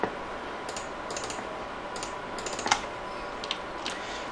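Computer keyboard key presses and mouse clicks while modelling a chair in Maya 3D software: scattered light clicks and taps, some in quick pairs, over a steady background hiss.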